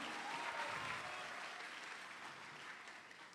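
Young people in Medan applaud at a public forum. The clapping is faint and sustained, a dense, even patter that fades slightly toward the end.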